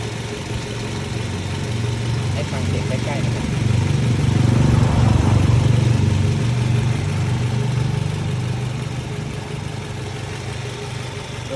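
A Wish 2.0Q engine that has never run on gas idles steadily, its low hum swelling slightly midway and then settling, while someone talks over it.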